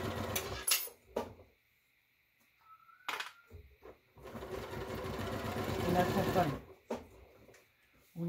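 A sewing machine stitches fabric for a reusable freezer bag, running in short close bursts of rapid mechanical whirring and needle clatter, with pauses between runs and a longer steady stretch.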